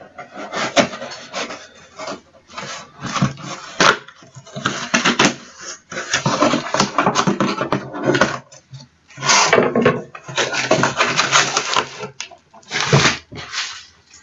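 A cardboard box of horror Blu-rays sliced open with a knife: repeated close, rough scraping and tearing bursts with short pauses, fairly loud, no talking.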